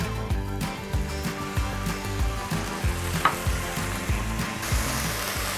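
Fish sauce hits a hot pan of Thai basil fried rice, raising a loud, continuous close sizzle with rhythmic scraping of a spatula stirring underneath.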